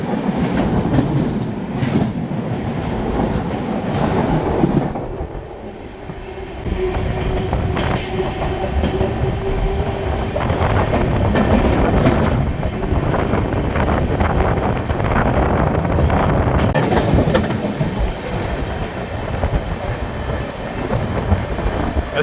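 The 12259 Duranto Express runs through Etawah Junction, heard from on board: a loud, continuous rumble with rhythmic clickety-clack of wheels over rail joints and gusts of wind buffeting the microphone throughout.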